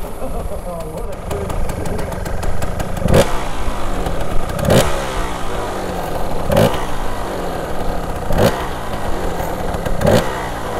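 A two-stroke off-road motorcycle runs through a cold start with a sputtering engine, and sharp kicks or blips recur about every two seconds, all under a person talking.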